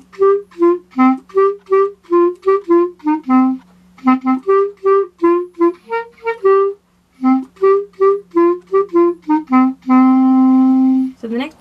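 The full instrumental part is played as a tutorial demonstration: a bright melody of quick, separate notes in repeating phrases over a steady low drone, closing on a long sustained note.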